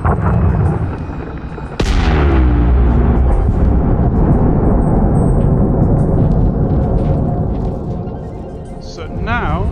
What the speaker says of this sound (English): Explosion dans 10 secondes.